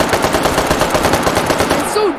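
AK-47 fire in the VR shooter H3VR: a loud, close, rapid automatic burst of evenly spaced shots running for about two seconds, ending in a brief tail.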